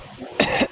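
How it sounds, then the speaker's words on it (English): A single sharp cough from someone drinking coffee, loud and close, bursting out in two quick rough pulses. "coughing with my coffee that I'm drinking here"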